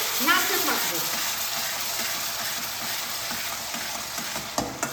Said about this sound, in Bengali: পেঁয়াজ বাটাটা ভাজা হোক